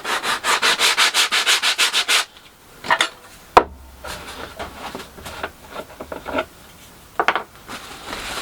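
Oil finish is rubbed onto a wooden rack in a quick, even run of brisk strokes, then slower, scattered rubs and faint handling sounds follow, close and clear.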